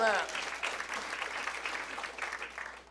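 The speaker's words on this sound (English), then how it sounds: "Thank you, a third of you, for clapping." Comedy club audience giving a scattered round of applause, dense clapping filling the room at moderate loudness, thinning slightly as it carries on with a faint murmur underneath.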